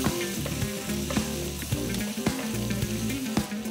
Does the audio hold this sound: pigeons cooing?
no